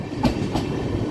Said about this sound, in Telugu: చెంగల్పట్టు లోకల్ ట్రైను మధ్యలో ఇంజన్లు ఉన్నాయి